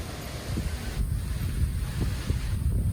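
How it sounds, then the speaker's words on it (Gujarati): Strong wind buffets the microphone with a constant low rumble and gusty roar, steady throughout with no talking. "આ કેટલો પવન આ મસ્ત."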